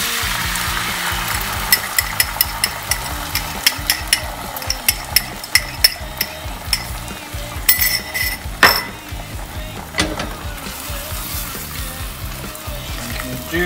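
Steady sizzling of eggs frying in a pan, with irregular metallic clinks and scrapes of a utensil against it.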